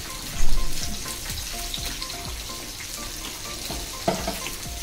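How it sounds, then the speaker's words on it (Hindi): Cooked chicken pieces dropped into simmering butter chicken gravy in a pan, with a soft thud and splash followed by steady bubbling sizzle and occasional stirring scrapes, nearby and without speech. "ग्रेवी में हमारा पका हुआ चिकन डाल देंगे।"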